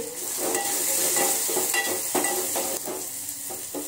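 Tomatoes with turmeric powder sautéing in a pan, a loud continuous sizzle with repeated scraping strokes of a spoon stirring, no talk.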